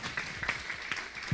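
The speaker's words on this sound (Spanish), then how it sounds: "Un aplauso para nuestros exponentes de la mañana de hoy." Audience applause at an international transmedia conference, a steady, fairly soft wash of clapping from a seated crowd, lasting about a second without any voice on top.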